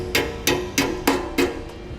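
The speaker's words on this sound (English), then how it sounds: "then we'll tap that on the arm with our hammer." A hammer taps a spring onto the arm of a B and W Companion OEM 5th wheel hitch, giving five evenly spaced, close metallic knocks, each with a short ringing tone.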